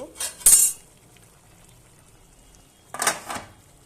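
A metal pot lid clanks twice on a pot of mutton boiling with mung dal, with a couple of quick rattles at the start and again about two and a half seconds later, and near silence in between.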